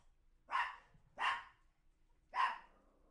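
Dog barking indoors near a front door: three loud, separate barks at an even pace, with quiet pauses between them and no talking.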